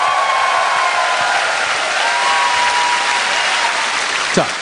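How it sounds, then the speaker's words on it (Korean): A concert audience applauds a guitarist with steady dense clapping that fills the hall throughout, a few brief whistles rising near the end. "우리 다시 한번 박수 보내죠"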